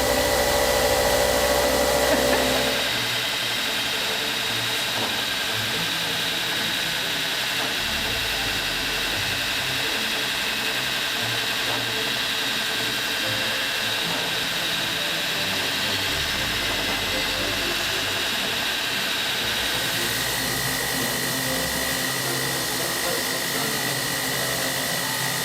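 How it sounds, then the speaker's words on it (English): A steady, loud motorized grinder drones continuously as a sword blade is ground during a forging build, a broad rushing whine that barely varies across the whole stretch with no voices. "as I've been grinding this sword"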